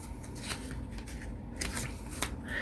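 Paper items from a happy mail package being handled, with crisp rustling and sliding of cards and paper close up, steady and fairly quiet with no talking.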